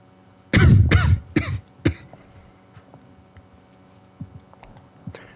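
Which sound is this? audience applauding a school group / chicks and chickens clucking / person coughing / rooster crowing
person coughing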